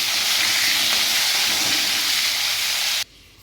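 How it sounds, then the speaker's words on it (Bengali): Potato pieces frying in hot oil, the same oil just used for cheese-stuffed chhana koftas, give a loud, steady, close sizzling hiss that cuts off abruptly near the end. "এইবার দিয়ে দেবো ওই তেলে আলুগুলো। আলুগুলো এবার ভেজে নেবো ভালো করে।"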